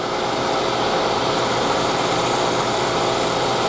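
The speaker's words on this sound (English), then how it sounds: "let's chuck up their bit. Be sure it spins true, which it does." A hole punch bit spins in a drill chuck, giving a steady, continuous high-pitched motor whine with an even hum that holds unchanged throughout, close and fairly loud, with no talking.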